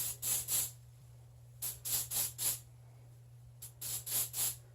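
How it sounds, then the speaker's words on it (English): Teasing spray from a bottle misted through hair, three groups of three or four quick hissing spritzes, close and crisp, over a steady low hum with no talking. "I'm going to spray this through her hair to give her some texture"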